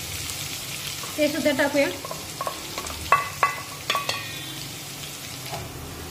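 Chopped onions with curry leaves hit hot oil in a pan for a green pea usal, crackling and sizzling in short bursts, with stirring scrapes and a brief spoken line near the start.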